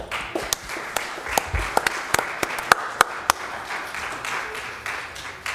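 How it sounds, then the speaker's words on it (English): Audience clapping at a city council meeting in Paterson, New Jersey, a modest round of scattered, uneven claps with a few sharp louder hits, steady for several seconds. "Round of applause."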